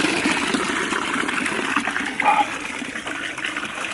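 A steady rush of water running from a tap in Andorra, splashing close by, with a brief brighter gurgle midway and no talking.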